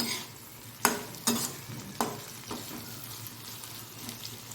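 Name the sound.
bitter gourd frying and being stirred in a pan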